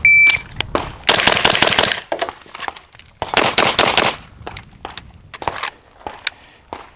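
Beretta M92 pistol fired during a timed range drill, with several bursts of sharp, loud shots in quick succession separated by short pauses, close by and outdoors, with no voices.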